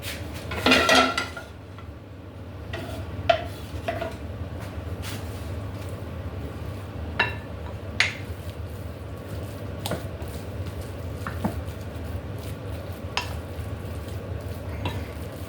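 Meatball mixture with onions worked by hand or spoon in a bowl in a home kitchen: a run of scattered clinks and scrapes against the dish over a low steady hum, with a denser rustling burst near the start.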